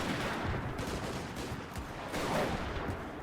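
Artillery and musket fire crackle in a dense, continuous volley across a Napoleonic-era Mount & Blade battlefield, fairly faint and distant throughout with no clear talk.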